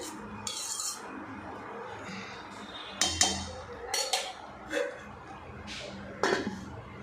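Vermicelli upma being stirred in a pan, giving several scraping clinks of a spoon against metal at uneven intervals over a soft background hiss, with no speech.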